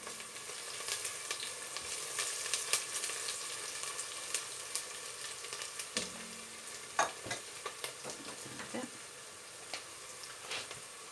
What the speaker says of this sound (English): Let me just stir this.